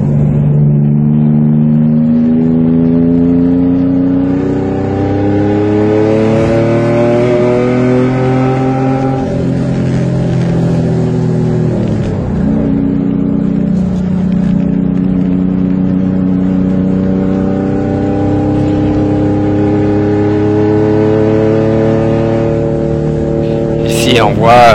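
Race cars lap the ICAR Mirabel circuit, their engines rising and falling through gear changes as they pass, loud and continuous, while a commentator speaks over them throughout.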